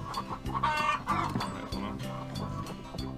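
Hens on a farm cluck repeatedly in short bursts over a steady, rhythmic musical background.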